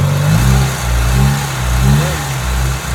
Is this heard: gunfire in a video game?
no